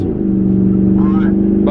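A straight-piped red Toyota Tacoma pickup drives by with its exhaust cut off, giving a loud, close, raspy engine drone that holds steady and rises slightly in pitch near the end.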